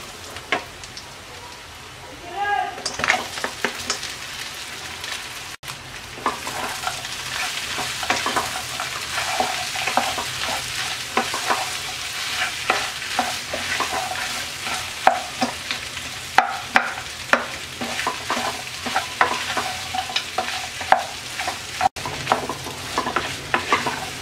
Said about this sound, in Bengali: এবার আমরা দিয়ে দিচ্ছি আমলকি দিয়ে 4-5 মিনিট ভেজে নেব।